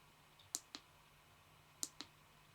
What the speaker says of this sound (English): by clicking the side switch.